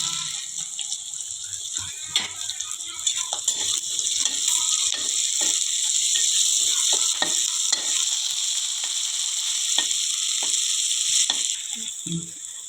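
Onions fry in a pan for a hotel-style potato curry, a steady close sizzle over medium heat with intermittent scraping and stirring knocks throughout, no voices.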